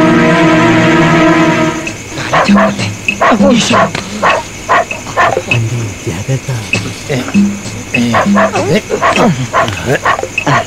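A man in a Telugu comedy film scene imitates a dog barking, giving a rapid series of loud, close yaps and yelps over background music.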